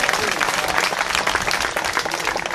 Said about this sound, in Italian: e questo amico si chiama Realino Dominici, al quale farei un grande applauso